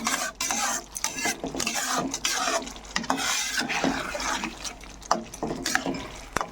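A spoon scrapes and clatters steadily in a pan of yogurt egg curry seasoned with shahi garam masala, with a light sizzle underneath. The stirring is close, busy and continuous, and no one talks.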